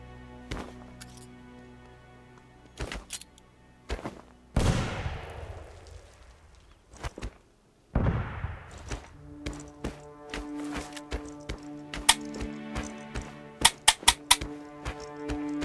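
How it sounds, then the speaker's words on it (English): MG34 machine gun on a Lafette tripod in the World War II shooter Red Orchestra 2: Heroes of Stalingrad, sharp isolated shots and brief bursts with two louder reverberant blasts, then a rapid rattling run of fire toward the end. "This is the MG34 mounted on the Lafette tripod for sustained fire."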